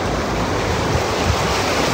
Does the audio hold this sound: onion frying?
no